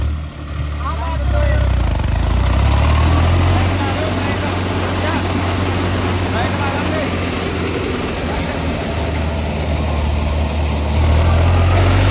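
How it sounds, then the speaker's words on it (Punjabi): A 3630 tractor engine drones low and steady throughout, working hard under load while hauling several loaded trolleys, as people talk over the engine noise. "ਟਰੈਕਟਰ ਲੋਡ ਲੈ ਰਿਹਾ"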